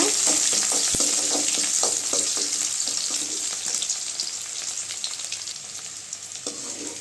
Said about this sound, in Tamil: சின்ன வெங்காயம், வெங்காயம் நல்லா வதங்கட்டுங்க